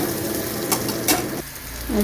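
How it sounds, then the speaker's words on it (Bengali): Chopped onion sizzles and fries in hot oil in a pan while being stirred for a Bengali pui shak dish with fish head, a steady crackle that swells in brief bursts and stays close and fairly loud. "আর পেঁয়াজটাকে ভালো করে ভেজে নেবো একটু"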